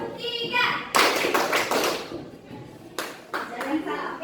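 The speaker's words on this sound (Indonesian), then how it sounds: "Tepuk 3." A classroom of children claps in unison on a teacher's call, a few sharp bursts of group claps amid the noise of the room, with a teacher's voice speaking.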